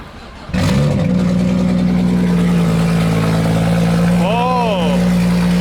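A 500hp BMW M2 track car built to Pikes Peak spec cranks and fires up, settling into a loud, steady idle close by, with a quick rising blip of revs near the end.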